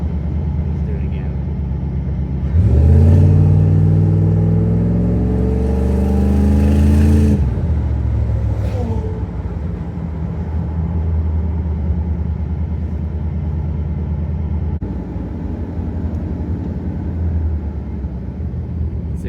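A 1982-1992 Camaro engine with an Edelbrock exhaust system revs up in a deep, loud rumble for several seconds, then settles back to a steady idle that continues underneath for the rest.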